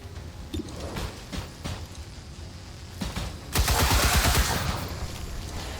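Gunshot hitting an enemy in XCOM 2 Long War of the Chosen: several scattered shot cracks followed by a louder, dense burst of fire with a wet impact, sustained for a couple of seconds before fading.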